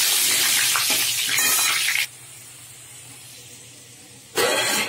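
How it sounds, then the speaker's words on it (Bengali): Potatoes for a mutton curry fry in hot oil in a pan, a loud broad sizzling hiss that drops to a faint low simmer midway before the loud frying surges back. "তার জন্য আলু ভেজে নিচ্ছি"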